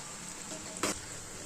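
Food frying in oil in a kadhai gives a steady, close sizzle throughout, with one brief sharper clatter partway through and no talking.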